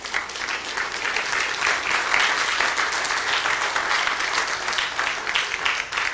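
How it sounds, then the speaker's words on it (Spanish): A church congregation claps at a Spanish-language seminar service in Burlington. The applause is loud and continuous throughout, with dense overlapping claps from many people. "Dele palmas al Señor, hermano."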